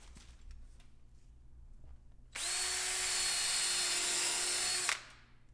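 A power drill drives a screw into wood while a door is built, a single steady whine of about two and a half seconds after a quiet lead-in, fairly close and clear.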